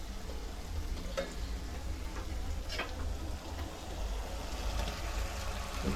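Pasta tipped into a pan already holding red and green chillies and stirred, with a steady close sizzle and frying hiss plus a few soft clinks of the spoon throughout, no voices.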